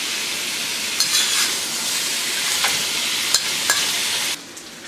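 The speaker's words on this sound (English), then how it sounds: "So give it a good braise. It's going to bring out the flavor in the stew." Lamb meat braising in a pot for a Chinese lamb stew, a steady loud sizzle with occasional scraping stirs and light utensil knocks, ending abruptly as the heat noise drops away.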